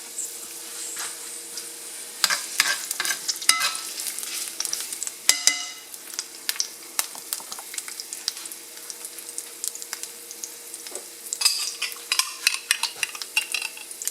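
A small amount of onion sizzles in a pan for corned beef, with a steady fry under repeated scraping and stirring clatter of a utensil, close up and without speech.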